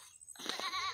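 A single goat on a small farm lets out a short, near bleat that rises out of near silence and holds briefly.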